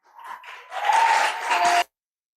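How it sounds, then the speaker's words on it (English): Audience applause at a talk event as a speaker is welcomed to the stage, a short burst of clapping that swells to a steady loud level for about a second before stopping abruptly. "A round of applause,"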